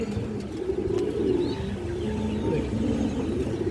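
A big female pigeon coos among other birds, soft low rolling coos rising and falling over a steady background of cooing, close and moderately loud.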